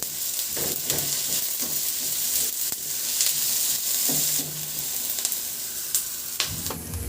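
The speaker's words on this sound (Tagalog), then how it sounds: "Magpainit na ako ng mantika at igisa ko na yung bawang. Igisa ko na rin yung sibuyas." Garlic and onion sauté in hot oil for a pork liempo dish, a steady close sizzle with scraping stirs and brief spoon clatters throughout.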